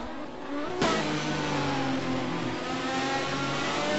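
Schumacher's race car in a racing game revving on the formation lap to warm its tyres, a steady mid-pitched engine drone that jumps sharply in pitch early on, then holds an even, loud whine.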